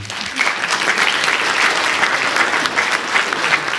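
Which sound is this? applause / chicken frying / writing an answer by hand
applause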